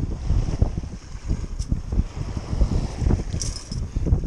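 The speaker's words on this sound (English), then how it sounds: "The wind is picking up a little bit" Wind gusts on a beach rumble and buffet the microphone continuously, loud and close, with a faint wash of surf beneath.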